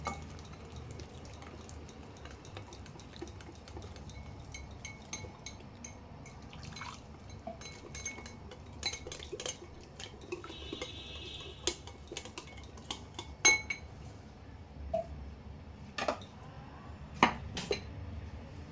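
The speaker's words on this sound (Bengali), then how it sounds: "সামান্য একটু জল দিচ্ছি, জল দিয়ে ভালো করে এটা কোট করে নিচ্ছি, গুলে নিচ্ছি।" Egg coating thinned with a little water is stirred in a bowl for chilli egg, the utensil clinking and tapping softly against the sides in irregular bursts over a quiet background, with no talking.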